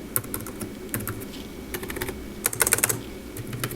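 Keys clatter on an ASUS Vivobook 15 laptop keyboard with deep 1.4 mm key travel, in bursts of quick taps, close and fairly quiet, with a few louder, deeper presses mixed in.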